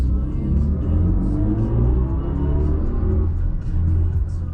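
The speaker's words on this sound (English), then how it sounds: "The acceleration is quick and brutal, and combined with Hans Zimmer's iconic sounds" A BMW i4 M50 electric car accelerates with its Hans Zimmer Iconic Sounds drive tones, a continuous loud rumbling whir that holds steady with no talk.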